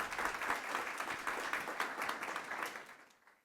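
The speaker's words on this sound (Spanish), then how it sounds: "Fuerte el aplauso, por favor." Audience applause at a formal government event in a hall, a steady burst of many hands clapping that fades toward the end.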